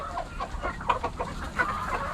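Darag chickens cluck on a farm, a scattered run of soft, close clucks and murmurs over a low background hum.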